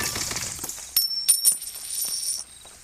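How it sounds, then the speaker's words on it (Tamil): Coins are collected in the video game Party Craft, giving a quick run of bright metallic chimes and clinks around the middle, with a thin ringing tail under faint game background noise. "சரி காசு கிடைக்குது."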